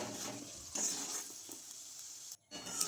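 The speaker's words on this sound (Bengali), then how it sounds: "আলুর পরোটাকে হালকা উল্টে পাল্টে ভেজে নিতে হবে" Potato paratha frying in a pan gives a soft, steady sizzle with light scraping as it is turned, quiet and close, with a short pause near the end and no speech.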